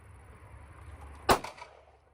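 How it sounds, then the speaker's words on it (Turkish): A Ruger Single Six revolver fires a single .22 Magnum round at a 25-metre target, one sharp, loud crack in the middle of quiet background noise, followed by a brief fading tail. "Şimdi aynı 25 metre atışlarını 22 Magnum'la"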